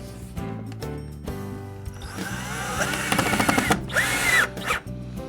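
A power drill drives a screw while a louver is installed, whirring steadily close by with short start-and-stop bursts and a rising whine near the end, heard alone without talking.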